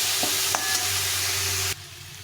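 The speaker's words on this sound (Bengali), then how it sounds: "মোচাটা দিয়ে দেবো। দিয়ে এটাকে একটু ভালো করে কষিয়ে নিতে হবে।" Banana flower being sautéed and fried in a pan with spices, a steady close sizzle with a few stirring clinks, the frying noise cutting off sharply near the end.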